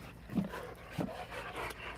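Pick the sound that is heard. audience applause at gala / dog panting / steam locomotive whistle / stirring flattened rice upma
dog panting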